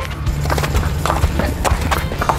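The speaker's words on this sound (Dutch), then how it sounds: "Een pony." A pony's hooves clip-clop steadily at close range in a rapid rhythm, with a whinny breaking through amid the hoofbeats.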